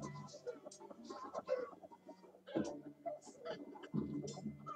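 Chicken-man units in the battle game TABS give out soft clucking sounds, several quiet irregular clucks mixed with game battle noise, low and muffled.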